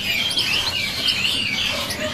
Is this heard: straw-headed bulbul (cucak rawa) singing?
yes